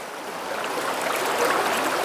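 Rushing water at the Acheron river, a continuous strong wash of falling, splashing water nearby, steady and loud with no voices.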